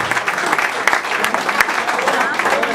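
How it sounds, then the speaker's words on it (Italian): An audience at a Christmas party for a football club applauds steadily for the whole moment, a dense patter of many hands with a voice faintly underneath. "fate un applauso al direttore generale Marco Erti"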